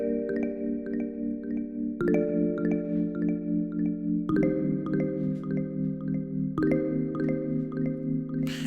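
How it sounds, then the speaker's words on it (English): Airy marimba synth in Ableton played with a mallet sound on its own, repeating struck chords about every two seconds, each with a bright attack and a soft ringing decay. "And I'm just using the mallet, airy marimba, and it sounds like this on its own."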